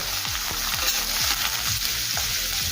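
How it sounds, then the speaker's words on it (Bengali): Onion and green chilli sizzle in hot oil, a dense, steady frying hiss with repeated soft spatula strokes in a loose rhythm, heard close and alone. "1 মিনিটের জন্য পেঁয়াজটা একটু নেড়ে চেড়ে নেব"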